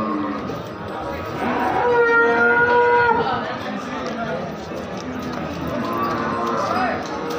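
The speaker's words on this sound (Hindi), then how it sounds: "जर्सी नस्ल की गायें हैं दोस्तों" Jersey cows at a cattle market moo loudly in long drawn calls, one rising moo in the middle and another later, amid a bustling crowd with people talking nearby and shuffling hooves.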